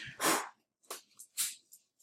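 A pet dog gives a short series of sharp, snorting sneezes indoors, close up, with brief quiet gaps between them.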